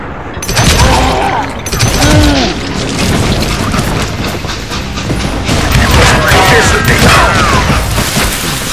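A Wild West shootout in the game Call of Juarez: Gunslinger, with loud, close gunfire booming in rapid bursts and crashing impacts throughout, and shouting voices mixed in among the shots.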